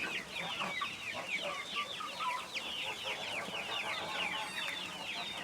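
Sussex pullets and chicks cluck and chirp continuously in a busy, close flock, with overlapping high peeps and soft clucks filling the whole stretch.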